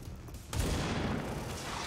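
Gunfire in the video game XCOM 2: a sudden loud burst of shots breaks in partway through and then rumbles on.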